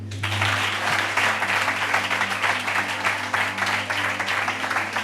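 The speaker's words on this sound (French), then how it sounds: "On applaudit." Studio audience at a French Saturday television show clapping steadily and loudly throughout, a dense sustained round of applause with a low hum underneath.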